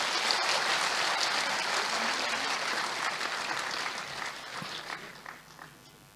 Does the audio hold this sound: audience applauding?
yes